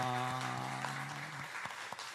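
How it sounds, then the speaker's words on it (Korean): Church congregation applauding in welcome, a round of clapping that fades out over a lingering sustained tone, ending in a few scattered claps. "우리 뜨겁게 박수로 환영하겠습니다."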